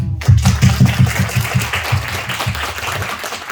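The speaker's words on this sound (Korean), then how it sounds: "박수." A church congregation claps together at a Sunday New Year worship service, a fairly loud, steady burst of applause with an even, rhythmic beat that carries on for several seconds.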